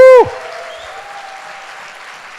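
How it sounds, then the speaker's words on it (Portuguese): A church congregation at a Sunday service breaks into sustained applause right after a short, loud shout, the clapping settling into a steady wash of moderate loudness. "dê esse aplauso bem forte para Cristo"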